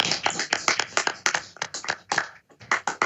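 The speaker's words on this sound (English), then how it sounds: "So let's give them all a round of applause" A round of applause during a Portsmouth, Virginia city council virtual meeting: sparse, irregular claps from a few people, close and distinct, with a short lull before they pick up again.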